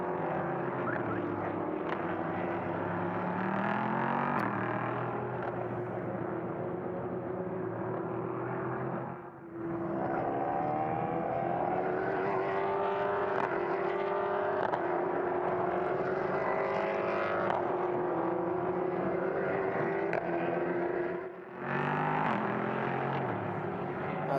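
LMP3 prototype race cars run on the Le Castellet circuit during a four-hour endurance race, a sustained engine drone rising and falling in pitch as cars pass, with brief dips between passes.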